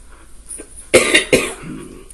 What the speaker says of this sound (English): I have been having a little cough recently